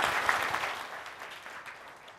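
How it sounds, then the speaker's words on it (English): Audience applause at a motivational session, a fairly faint wash of many hands clapping that tapers off gradually. "we'll welcome it with a round of applause"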